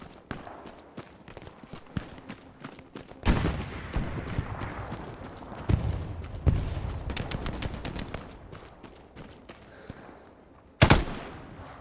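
Gunfire in the World War II shooter Hell Let Loose, with an enemy firing from a building: repeated loud shots and bursts of automatic fire, some close and some distant, echoing over a rumbling battlefield.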